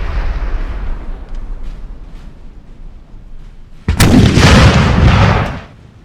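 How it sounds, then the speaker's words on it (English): Howitzer artillery in the Napoleon Total War game, at the Battle of Trebbia in 1799, lets out a single heavy, booming blast that rolls on for about a second over a low battlefield rumble before fading. "Spitting out some artillery shots. I don't know where they're going. It does look like a howitzer"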